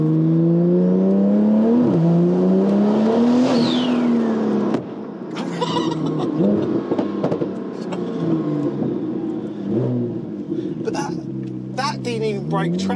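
A 1500 bhp Porsche 992 Turbo S pulls hard from a standstill, its engine note rising steeply through the gears before easing off, with a voice talking over the fading drive and road noise.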